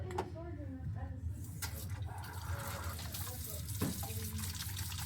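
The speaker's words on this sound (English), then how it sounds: "So first thing we're going to do is we're just going to wash our hands." Water runs steadily from a tap as hands are washed beneath it, a continuous close splash with a faint voice murmuring in the background.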